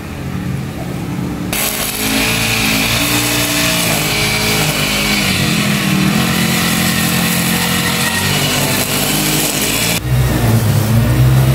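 A grass cutter runs outside with a continuous buzzing engine drone, holding steady for several seconds, then shifting pitch as the load changes near the end. Moderately loud and somewhat distant.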